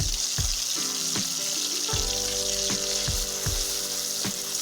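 Garlic paste frying in a pan with tomatoes for a desi chicken curry, a steady loud sizzle with repeated sharp clinks and scrapes of a spatula stirring at an even rhythm.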